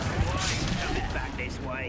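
Spellcasting in the Hogwarts Legacy video game, with Arresto Momentum and Incendio effects: a dense, steady wash of whooshing, crackling blasts running throughout, with a voice speaking over it.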